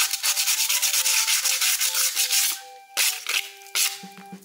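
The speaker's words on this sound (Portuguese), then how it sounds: "Aí vamos pegar uma lixa dessa daqui. Acho que é 120." Quick, loud, close scratching strokes of 120-grit sandpaper on a small cement pot, rapid and regular at first, then slowing to a few separate rubs.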